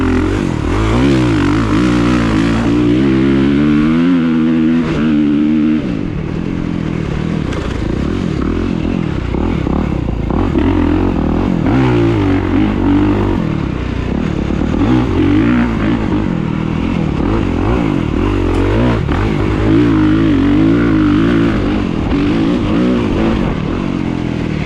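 A 2023 Kawasaki KX450SR dirt bike with engine work revs hard at full throttle, loud and close, its pitch climbing and dropping in repeated surges, with no voices.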